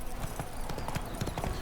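Horse hooves clip-clop at a steady trotting pace in The Witcher 3: Wild Hunt, quiet and continuous under a faint wash of background game ambience.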